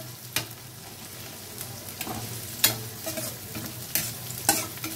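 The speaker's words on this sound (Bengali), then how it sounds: "এখন এগুলোকে আমি একটু ভালো করে ফ্রাই করে নেব বন্ধুরা" Finely chopped onion and garlic paste fry in a pan, a steady close sizzle broken by several sharp scrapes and knocks of stirring at irregular intervals, with no speech.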